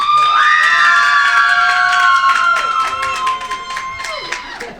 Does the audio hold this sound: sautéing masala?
no